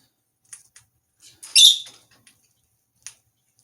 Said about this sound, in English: she keeps trying to rush out and just fly away and do her little budgie thing